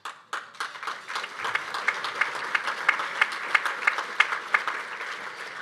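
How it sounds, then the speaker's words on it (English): An event audience at a prison entrepreneurship program gathering breaks into applause, scattered claps at first that build into a fuller crowd clapping with a few sharp, distinct hand claps standing out near the front. "I asked Steve to seed that applause for me"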